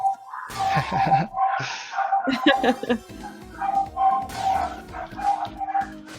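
Dogs yip and bark in short bursts, mixed with excited talking and exclamations from people nearby.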